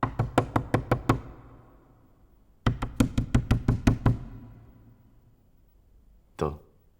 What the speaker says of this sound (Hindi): दरवाजे पे दस्तक हो